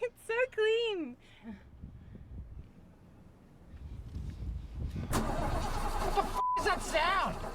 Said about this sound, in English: What the f is wrong with your engine?